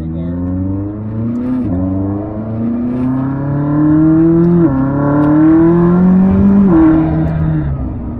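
A McLaren 600LT accelerates hard through the gears, its engine note rising steadily in pitch and then dropping sharply at each of several quick upshifts, loud and close from inside the car with no talk.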